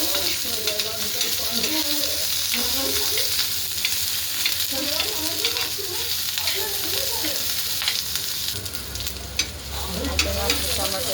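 Two tomatoes frying in hot oil for a mutton curry, a continuous close sizzle with spattering and occasional stirring under low background noise.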